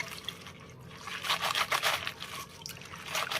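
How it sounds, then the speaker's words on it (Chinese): Spinach washed by hand in a half basin of salted water, with gentle swishing, trickling and dripping of water, close and quiet. "然后把菠菜放进来给它洗一下"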